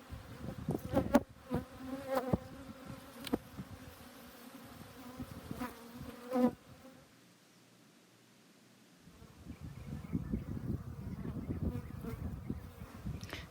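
Honey bees hum in a busy, wavering drone around an open hive, with sharp clicks and scraping up close as frames are handled, a brief lull, then the buzzing swells again.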